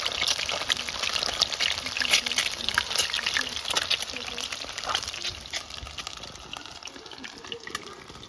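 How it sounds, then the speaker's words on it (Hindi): Eggs frying in a pan for an egg curry: a steady crackling sizzle with scattered pops, loud at first and easing slightly toward the end. "ये जो एग्स है इनको हम सभी को ऐसे ही फ्राई कर लेंगे अच्छे से"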